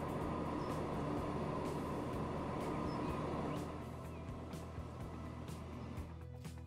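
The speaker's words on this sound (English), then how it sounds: "So we have our new train." A train runs in the video game Transport Fever 2, producing a steady, loud rumbling roll with faint clicking rail sounds that eases slightly partway through, with no talking.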